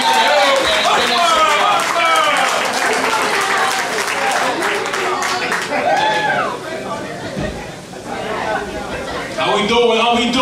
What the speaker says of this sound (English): One more round of applause for Tony Three.